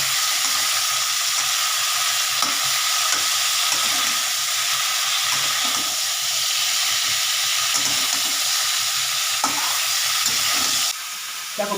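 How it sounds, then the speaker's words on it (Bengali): Cauliflower pieces frying in oil sizzle steadily while a utensil stirs them with repeated scraping clicks, until the sound cuts off abruptly near the end. "ফুলকপিটা ভাজা হচ্ছে"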